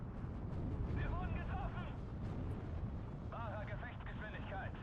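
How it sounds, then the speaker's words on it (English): An incoming artillery barrage rumbles in the Steel Division 2 wartime strategy game, with deep, continuous booming explosions under a dense battle din and shrill whistling tones. "that artillery coming in should help us out a bit"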